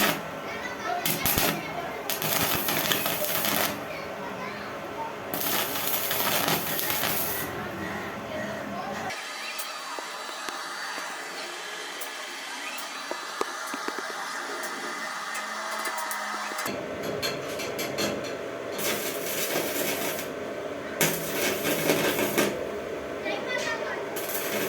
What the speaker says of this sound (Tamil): நம்ம வெல்டிங் டேபிளுக்கு போய் லைட்டாக வெல்டு பண்ணி பார்ப்போம்